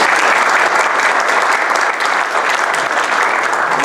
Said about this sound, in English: let's give a round of applause to all of our candidates.